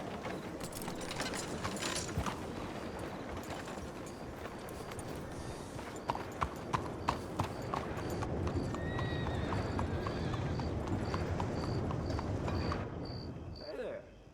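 Horse hooves clip-clopping with an occasional neigh in Red Dead Redemption 2, a starving horse at a stable, steady close hoofbeats over a busy background bed with faint mechanical clicks and a whistling tone near the end.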